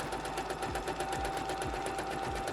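A small sewing machine stitches through several layers of denim, its needle pounding in fast, steady rhythm under a constant motor whir, close and loud.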